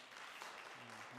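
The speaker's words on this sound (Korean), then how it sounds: "우리 박수로 한번 환영할까요?" A church congregation at an outdoor Sunday worship service in Calgary claps to welcome visitors, a brief, soft, steady burst of applause heard from some distance.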